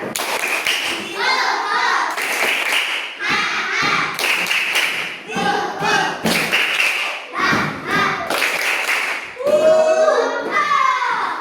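Children in an Indonesian classroom lesson perform a rhythmic spirit clap, loud patterned bursts of hand claps and thumps mixed with their chanting voices close by.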